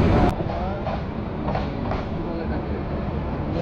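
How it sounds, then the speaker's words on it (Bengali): Passenger train pulling out of the station, a steady low rumble and rolling clatter of carriages, continuous and moderately loud with faint murmuring voices inside the coach. "আমাদের ট্রেন 4:35 ছেড়ে দিচ্ছে"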